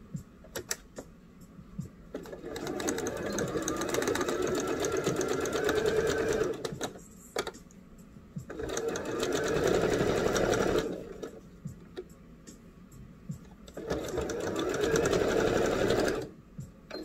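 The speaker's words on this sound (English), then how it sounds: "I'm going to be using my serger today" A serger sewing machine stitches a bell sleeve shirt in three bursts of steady, fast whirring separated by short pauses, close and loud with no talking.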